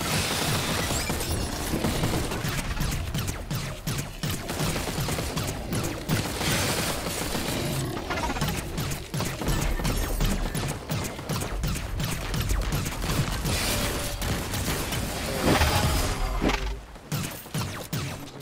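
Rapid, sustained gunfire and explosive impacts during an enemy attack in the video game Overdrive, dense continuous bursts with crashes and thuds, loud and unbroken, briefly swelling near the end.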